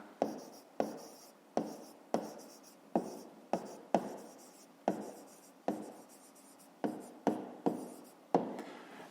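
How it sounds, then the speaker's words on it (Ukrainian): Pen or pencil scratching out an answer by hand on paper while solving a fifth-grade maths exercise, a steady run of short, close strokes and taps, each stroke crisp and distinct, with no voices. "а зараз записуємо відповідь"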